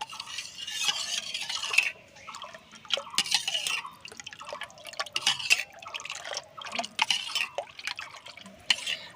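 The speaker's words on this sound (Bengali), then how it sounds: "এর ভেতরে একটু অল্প করে জল দেব। জল দিয়ে দইয়ের সঙ্গে খুব সুন্দর করে মিশাবো।" Water is poured into yogurt to make a sweet yogurt drink, a run of soft liquid splashes, drips and stirring clinks that repeat at close range, with no talking.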